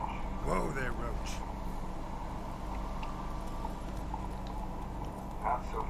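Roach the horse's hooves in Witcher 3, a steady clip-clop of trotting under a constant low game ambience, with a voice speaking over it.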